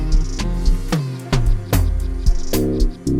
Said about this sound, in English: now with my log drum, it sounds like this.